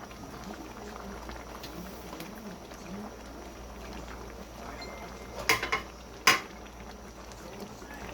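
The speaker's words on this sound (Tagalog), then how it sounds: "Kumukulo na." A pot of mung beans simmers with a soft, steady bubbling hiss, broken by a couple of sharp clinks near the end.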